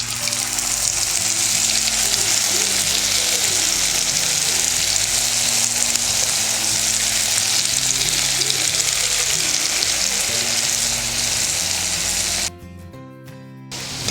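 Okra pieces deep-fry in a pan of hot oil with a loud, dense, continuous sizzle and bubbling that runs without talk, then drops abruptly quieter near the end.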